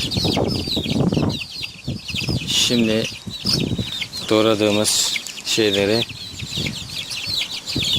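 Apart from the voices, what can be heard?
hen and chicks clucking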